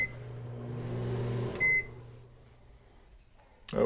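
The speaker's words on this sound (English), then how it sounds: "you wouldn't want to run the microwave for a whole lot of time" A microwave oven powered through an RV's solar-charged inverter hums steadily with a low drone, then a short beep sounds and the hum stops, leaving quiet room tone before a sharp knock near the end.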